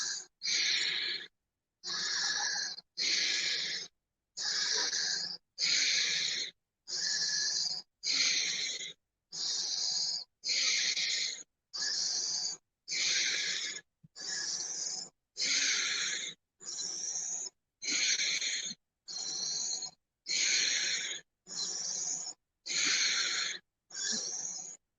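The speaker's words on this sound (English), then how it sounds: "Make it really count on these deep," Deep, full breaths in a guided breathwork session, about twenty strong rhythmic breaths in a steady, evenly spaced series, each a breathy rush with a wheezy edge, close and alone with brief silences between.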